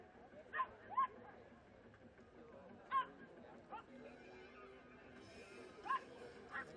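A dog barks in several sharp, separate bursts over a steady background murmur at a motocross race, the MXGP of Lombardia 2020.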